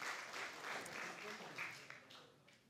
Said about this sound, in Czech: Zatleskáme Ondřejovi